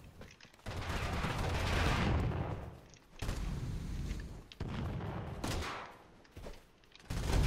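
Gunfire rings out in the video game Totally Accurate Battlegrounds, with bursts of rapid shots and heavy blasts in clusters separated by short gaps, loud and close.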